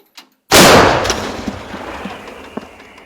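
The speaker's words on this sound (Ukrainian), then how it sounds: "Постріл!" One loud, close artillery gun blast booms suddenly after a brief silence, followed by a long rolling echo that slowly fades.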